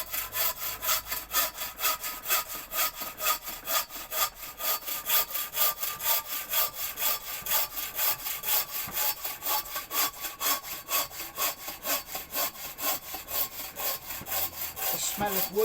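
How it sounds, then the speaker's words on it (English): Firewood being sawn through with a long run of quick, even strokes, the coarse rasp of teeth biting wood close and continuous, alone and without speech. "Just listen to that go through."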